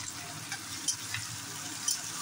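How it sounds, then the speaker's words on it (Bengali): Onions, green chili, garlic and ginger fry in hot oil, giving a faint, steady sizzle with soft stirring and two light clinks of a utensil. "তেল গরম হয়ে গেছে, দিয়ে দিয়েছি পেঁয়াজগুলো হালকা ভেজে নেব।"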